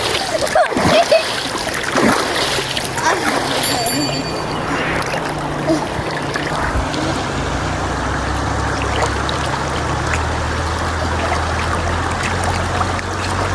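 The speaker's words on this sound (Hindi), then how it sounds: "ये हम इसमें चल रहे हैं और ये पानी बग रहा है और ये साफ है।" Feet wade through shallow, clear, flowing stream water with loud splashes early on, then a steady rushing trickle of the current continues, while a person talks over it.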